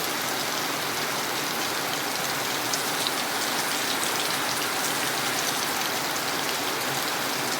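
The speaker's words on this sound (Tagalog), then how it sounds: "Grabing ulan na ito." Heavy rain pours down steadily and loudly, a dense unbroken hiss of drops with no voices.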